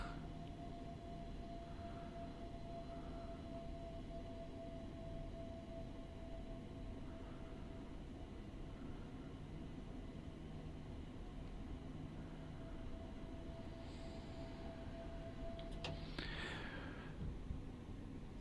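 A Class 377 electric train in Train Simulator rolls slowly into Blackfriars station, keeping up a steady low rumble with a faint sustained tone. Near the end come brief higher squeals and hisses from the brakes or the motors.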